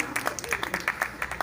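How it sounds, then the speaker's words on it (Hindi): A small audience at a Sanskar Bharati cultural event in Mahauli claps in a brief, thin scatter of hand claps, fairly quiet and uneven. "ताली बजाओ यार, कोई नरेगा मजदूर थोड़ो ताली बजाया करो"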